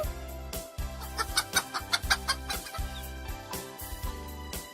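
A hen clucks in a steady series of short, sharp clucks at moderate volume, close by and without any talking.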